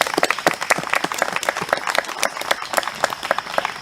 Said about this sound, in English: Let's please share our applause for these 14 regents with us today.